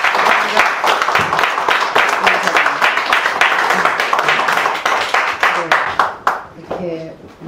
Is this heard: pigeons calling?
no